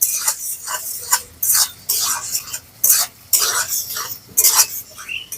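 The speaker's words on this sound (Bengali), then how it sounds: "টমেটোটাকে খুব ভালো করে ভেজে নিয়েছি" Chopped tomato with salt frying in a pan for a vegetarian curry, with repeated scraping stirs and sizzling in uneven bursts, close and moderately loud.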